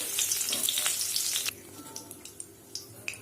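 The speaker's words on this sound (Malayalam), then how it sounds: "ഇനി ഇതിലേക്ക് കുറച്ച് കറിവേപ്പില ചേർത്ത് ഫ്രൈ ചെയ്തെടുക്കണം." Curry leaves frying in oil after batches of chicken pieces for chilli chicken: loud, dense crackling sizzle for the first half, then cut to a quieter pan with scattered pops and clicks.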